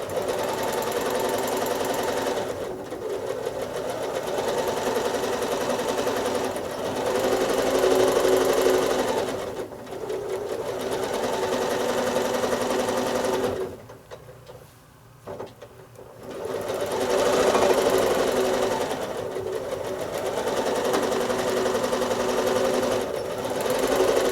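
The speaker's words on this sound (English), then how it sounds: "travel stitching against the edge, and coming straight back" A sewing machine runs steadily in a free-motion quilting pass, travel stitching back and forth along an edge, with a continuous close whirr that briefly dips and pauses before resuming.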